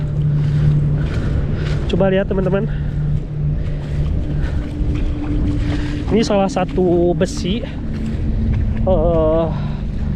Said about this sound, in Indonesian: karena di sini tuh anginnya kencang banget